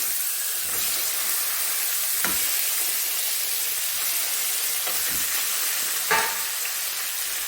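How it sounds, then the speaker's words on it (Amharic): Meat sizzles in a pan with red onion for Saudi kabsa, a steady close frying hiss broken by a few sharp pops and stirring clinks. "ስጋ እንደዚህ ሲጠበስ በጣም ቆንጆ ነው ማለት ነው።"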